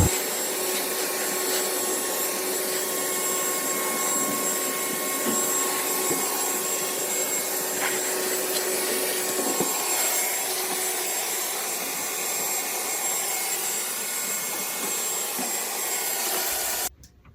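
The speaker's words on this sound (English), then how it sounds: "If you've got a shop vac, it's not a bad idea to vacuum up around the furnace" A shop vacuum roars steadily and loudly around a furnace, its pitch shifting slightly as it moves, then cuts off abruptly at the end.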